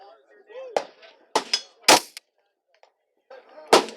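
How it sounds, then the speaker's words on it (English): A smart rifle fires several sharp, loud gunshots at irregular intervals, close by, with bits of speech in between. "the gun just fires. Bang, it's there"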